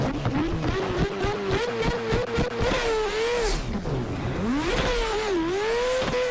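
Rotary-swapped McLaren drift car in Assetto Corsa screams at high revs, its buzzy engine note climbing, dipping sharply and surging back through rapid shifts, loud and continuous throughout.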